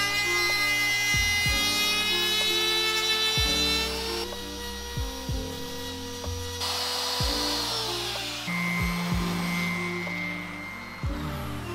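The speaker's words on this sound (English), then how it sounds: "an orbital sander" Orbital sander smoothing the trimmed, rounded edge of a wooden monitor stand, a continuous close, loud grinding whir with repeated shifts in tone as the tool is pressed and moved along the wood, no talk.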